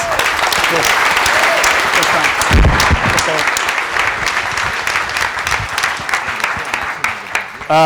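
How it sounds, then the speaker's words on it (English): Loud, sustained audience applause at a live show, with cheering and some voices mixed in, continuing steadily before briefly swelling near the end. "Big round of applause, guys."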